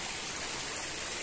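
Water flowing around a farm field, a steady broadband rush like a stream, continuous and fairly close with no other sounds.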